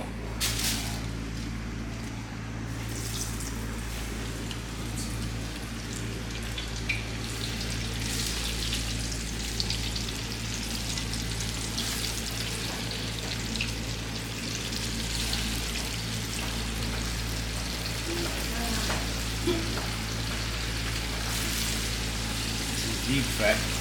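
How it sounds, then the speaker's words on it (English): Seasoned food deep frying in hot oil in Jamaica, giving a continuous close sizzle with scattered sharper crackles and pops over a steady low hum for more than twenty seconds. "Alright, frying time now."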